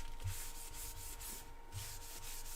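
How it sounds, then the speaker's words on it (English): A Chestnut Nyewed abrasive pad is rubbed over a wood lathe bed to clean it, giving soft, quiet scratchy strokes repeated in an even back-and-forth rhythm, close up with no voices. "So I use a Nyewed pad, Chestnut Nyewed, just rub the lathe bed down"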